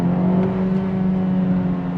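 A 2023 Honda Civic Type R FL5 engine hums at a steady drone with a pronounced low tonal note from its artificial engine sound, close and fairly loud with no voices.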